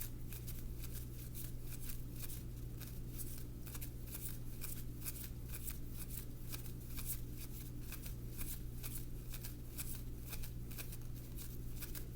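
Tarot cards being shuffled by hand, a quick repeated riffling patter at a steady rhythm held close, with a low constant hum underneath and no talk.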